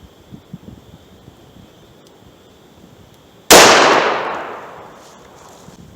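A single loud 9mm gunshot of a 125 grain American Gunner round fired into wood cracks sharply outdoors and rings off in a long decaying echo, after a few seconds of quiet ambience.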